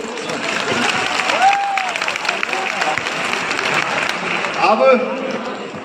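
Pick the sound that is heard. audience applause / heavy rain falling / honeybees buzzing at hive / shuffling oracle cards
audience applause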